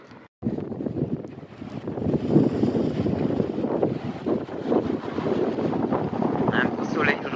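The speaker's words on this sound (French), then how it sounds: "Il y a un peu de vent, hein." Wind buffets a microphone outdoors on a sunny, warm day during a camper-van trip in Spain, a steady close rumbling roar that runs almost the whole time under a voice talking.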